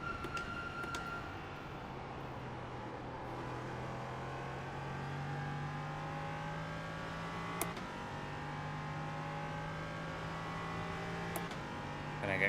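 LMP3 race car at Watkins Glen circuit, engine droning with rising and falling pitch as it accelerates through gears, steady and close, with a few sharp clicks and no talk.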